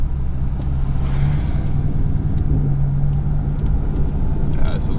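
An Infiniti Q45 fitted with Audi R8 coil packs idles and revs in traffic, giving a steady low engine rumble with a slight rise and fall. Faint road noise sits underneath.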